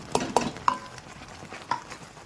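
Grated coconut for orange barfi is stirred in a pan, with a few distinct scrapes and taps of a spoon against the metal over a faint background hiss.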